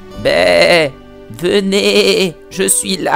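Sheep in the video game Dog's Life bleat in long wavering cries, loud and close, interleaved with someone talking over the game.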